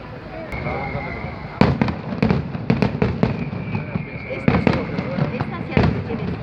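Fireworks display at Palamós in 2017: a string of sharp bangs and crackling bursts at irregular intervals over a steady crowd murmur, with people talking nearby throughout.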